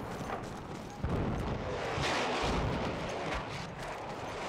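Sharp bursts of video game gunfire crack and boom over a constant noisy rumble, several shots in quick sequence with no talking.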